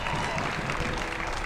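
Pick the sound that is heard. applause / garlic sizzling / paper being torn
applause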